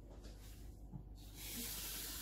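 About a quarter glass of water poured into a pot of garlic and lemon for Moroccan chicken with quince, rising into a soft hissing rush near the end after a quiet start, faint and close.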